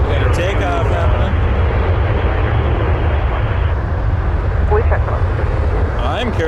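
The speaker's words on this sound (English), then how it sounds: "We got a takeoff happening." A jet airliner takes off at Toronto Pearson airport, its engines a loud, steady low roar held throughout, with voices talking over it.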